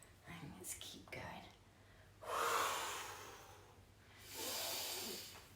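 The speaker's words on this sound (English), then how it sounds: "Breathing in and breathing out." A slow guided deep breathing exercise: audible, airy inhales and exhales rise and fall near the microphone, two long breaths following a few shorter sniffing breaths, quiet and otherwise alone.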